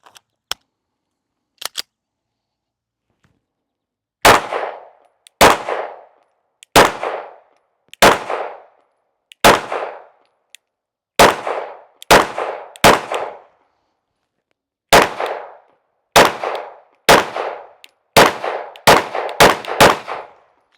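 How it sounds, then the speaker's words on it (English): Sig P365 Fuse pistol shots at a range: about fifteen loud, sharp cracks, single or in quick pairs, with short echoing tails and quiet gaps between. "But let's just shoot the first shots here."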